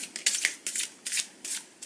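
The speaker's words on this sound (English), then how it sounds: "I'm going to shuffle and look for how long" Tarot cards are shuffled in quick bursts, four or five crisp riffling rustles close up, separated by short pauses.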